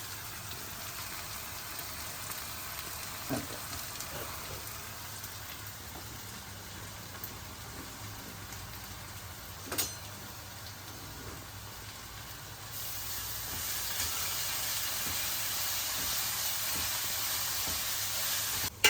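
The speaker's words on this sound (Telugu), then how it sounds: "ఉల్లిపాయలు వేగుతున్నాయి కదా బాగా వేగాలండి" Chopped onions fry in hot oil with a pinch of asafoetida for a ripe mango curry, giving a steady, soft sizzle and hiss that swells louder near the end, with an occasional small pop.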